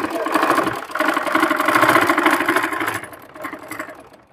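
A sewing machine stitches a lungi's checked cotton fabric in a steady mechanical whir close by. A person speaks over it, and the machine slows and quiets toward the end.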